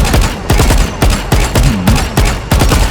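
Rapid automatic gunfire from the Arcane skin gun in Valorant, loud close bursts of evenly spaced shots about every half second, dense and punchy with no talk over it.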